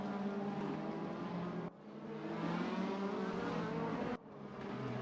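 BMW, Audi and Mercedes DTM race cars in the RaceRoom racing game roar steadily at high revs, with two abrupt cuts where the engine note drops and then climbs again.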